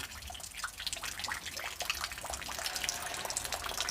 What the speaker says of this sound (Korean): 눈이 녹는 물소리